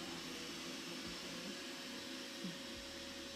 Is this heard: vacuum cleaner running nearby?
yes